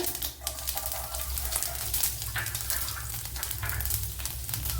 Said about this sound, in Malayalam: അതിലേക്ക് ഇനി വെളുത്തുള്ളി ഇട്ട് കൊടുക്കുക.